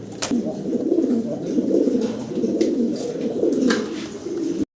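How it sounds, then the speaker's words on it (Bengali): Four Modena pigeons coo together nearby, a steady, rolling, throaty murmur that carries on without pause, broken by a few faint clicks and ending abruptly. "এই চার চার পিস মডানা কবুতর দেখেন একসাথে চারটা ঘি চকরাচাটি করতেছে"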